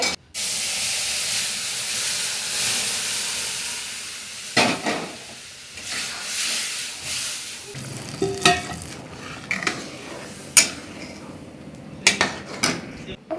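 Fresh corn cobs (bhutta) roast on a home kitchen stove with a steady hiss and crackle, broken by clinks and scrapes of pots and utensils close by.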